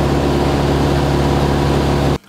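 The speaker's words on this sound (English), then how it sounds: "tried it in a Cessna 172. It's a small single-engine airplane" Inside a small single-engine Cessna 172 in flight, the engine drones loud and steady with a low, constant roar before cutting off abruptly at the end.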